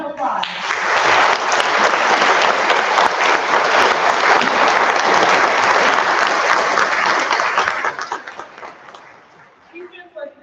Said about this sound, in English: go ahead and stand up so that we can give you a round of applause